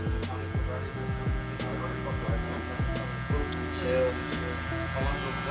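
Electric hair clippers buzz steadily and close while cutting a blowout taper, with the tone shifting in short repeated strokes as the blade passes through hair.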